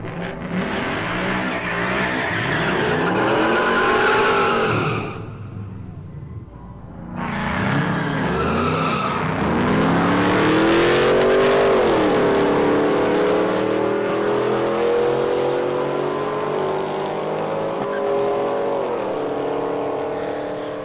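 A hot rod doing a burnout at a car event roars at high revs, its tires squealing loudly and continuously, with a short dip in power midway before the engine surges again and the screech climbs and holds for the rest of the run.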